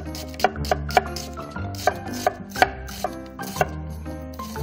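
Thin slices cut from an onion with a knife on a cutting board, an uneven run of crisp taps close by, about a dozen strokes in under five seconds.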